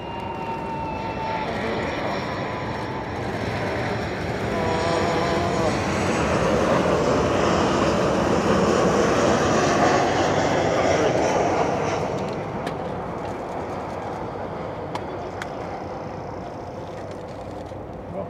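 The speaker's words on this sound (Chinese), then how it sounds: "咁啊而家军机正在降落" A military transport aircraft landing at Taipei Songshan Airport, its engines a steady, broad roar that swells and slowly fades over the whole stretch, heard from a distance.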